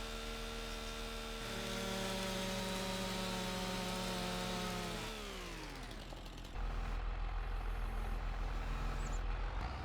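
Heavy forestry machinery in Farming Simulator 25 chopping logs and loading them into trailers: a steady engine drone with a pitch that rises and falls, then settles into a louder, lower rumble.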